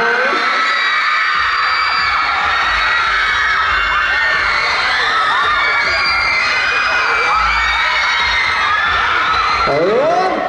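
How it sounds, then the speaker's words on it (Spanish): A large crowd at an anime festival screams and cheers continuously, high shrill voices and whoops layered together at full volume, with a low thumping boom underneath and a fresh burst of shouting near the end. "¿Quién de aquí está gritando más?"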